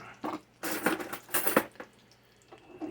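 A metal fork is picked out among other utensils, a few quick clinks and rattles in short bursts, close and fairly quiet, in a home kitchen.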